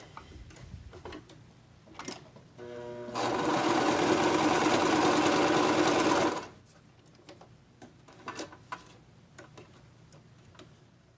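A sewing machine runs test seams, starting with a few slow ticking stitches, then a fast, loud whirring burst of stitching lasting about three seconds, with quiet handling clicks before and after.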